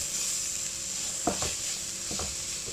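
Coriander powder, chilli powder and garam masala are sautéed in a pan for a quick snack, giving a soft steady sizzle with a few brief scraping stirs near the middle, quiet and without speech.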